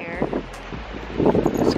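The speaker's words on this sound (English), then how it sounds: "Sorry if you guys can't hear me because it's so windy." Strong outdoor wind buffets the microphone in rumbling low gusts, loud and continuous, with a person talking over it.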